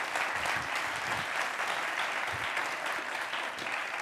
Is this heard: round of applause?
yes